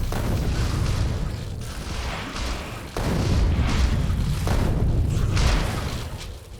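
Rocket launcher explosions in the game Factorio, a dense run of loud, heavy booms rolling one into the next, with fresh blasts hitting near the three- and four-and-a-half-second marks.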